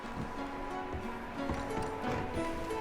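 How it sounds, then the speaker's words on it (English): Horses in Red Dead Redemption 2 clip-clop at a moderate pace near a cabin, with hoof beats thudding irregularly over soft ground, fairly faint beneath ambient outdoor noise. "Micah, go bring the horses closer to the house."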